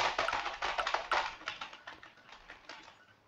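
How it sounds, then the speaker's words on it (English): Keyboard typing picked up over a Roblox BedWars voice chat mic, a quick run of light clacking keystrokes that starts fairly close and grows fainter and sparser toward the end. "They have their mic on, and I can hear the keyboard"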